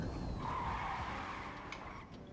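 A car in GTA V skids on its rear brake alone, a long tire screech over engine rumble that fades slightly toward the end, with no talk over it.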